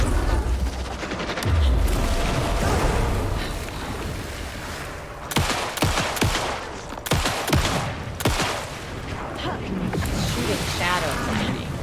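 In the Alan Wake 2 video game, shadow enemies fire off gunshots in bursts of sharp cracks. The shots ring out over a steady rushing, wave-like ambience.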